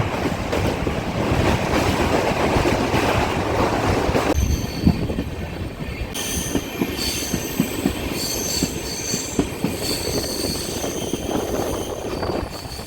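Express train rolling slowly through darkness past Badalpur station without stopping: a steady rumble of wheels on track with irregular clicks and squeals, loud and close, continuous throughout.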